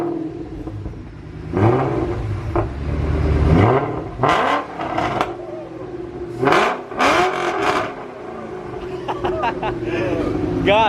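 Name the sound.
Shelby GT500 with new aftermarket exhaust revving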